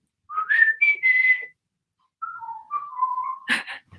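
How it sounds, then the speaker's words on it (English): A person whistles a short answering call: a quick run of rising and falling notes, a brief pause, then a longer sliding phrase ending in a sharp chirp, close and clear with no talking. "That's his answer whistle."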